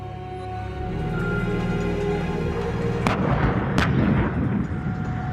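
Army T-90 tanks firing during a day-and-night exercise in cold Ladakh, a sustained low rumble broken by two loud, sharp blasts about a second apart, with heavy echoing booms rolling after them, no talk.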